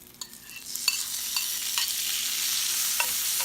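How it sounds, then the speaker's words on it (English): Green pepper, onion and mushroom go back into a frying pan, a few stirring scrapes at first, then a bright sizzle that builds and holds steady and close, with no talking. "we're going to return the green pepper, onion, and mushroom back to the frying pan"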